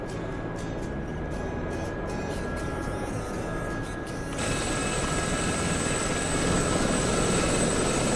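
A helicopter in a combat flight simulator game drones steadily with a constant rotor and engine roar and a high whine, loud and continuous, the tone brightening partway through.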